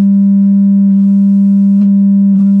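A steady low sine wave test tone played at high level through a ported ABC subwoofer box, a constant loud hum with faint faster clicks and rustles over it.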